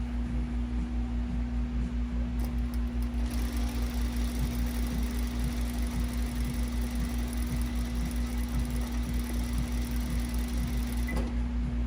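A sewing machine runs a long basting stitch on a pajama shirt, giving a steady, continuous mechanical hum with a constant low drone throughout, close and even.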